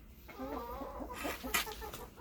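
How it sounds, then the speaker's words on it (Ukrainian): A golden hen clucks in a short, chattering run of calls, near and fairly quiet, with no voices over it. "Така голосиста курка."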